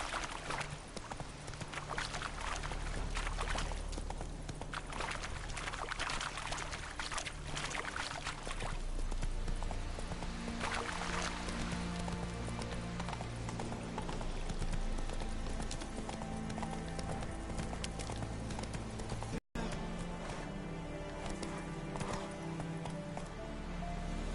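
Horse hooves clip-clop steadily at a gallop in the video game The Witcher 3, a continuous rhythmic pounding over game music and ambience, with an occasional whinny.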